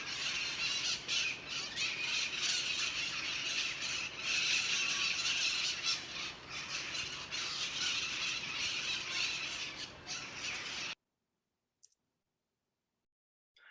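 Parrot calls recorded in Florida, a steady wash of harsh squawks and squeals from what sounds like a flock, continuous and fairly busy for about eleven seconds before cutting to near silence.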